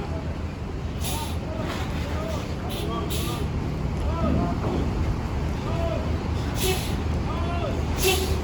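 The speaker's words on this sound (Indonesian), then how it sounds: "Ayo, mobil Kalideres masuk kapal." A car drives onto a ferry at Merak harbor under a steady, loud rumble of engines and wind buffeting. Short hissing bursts recur throughout, and voices call out around the vehicle.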